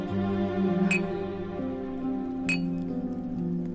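Two quick glass clinks ring out during a toast in a Qing palace drama, each a bright, brief chime over a steady background of soft music.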